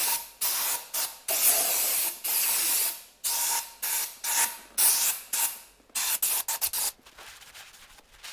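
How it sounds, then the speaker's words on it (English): Brake cleaner sprays in repeated bursts from an aerosol can onto engine parts during a 998 turbo A-Series engine build, loud close hissing blasts with short gaps, quickening into rapid short spurts near the end, with no talking. "Alright, so the brake cleaner's out, so we're just going to give everything a real nice clean."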